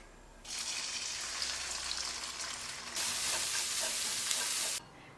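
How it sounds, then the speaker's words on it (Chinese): Carrots and beaten eggs hit hot oil in a wok with a sudden loud sizzle that holds steady, then swells even louder midway before cutting off abruptly near the end; no voices. "锅里面多放点油，油热倒入胡萝卜、鸡蛋。"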